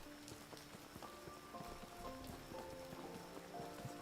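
Rain in a game under development falls as a constant soft patter, while clopping hoofbeats and brief tonal game sounds step in and out over it, all fairly quiet.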